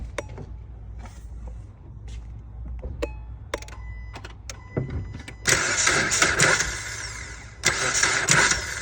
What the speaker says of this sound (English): And I'm going to actually start the car.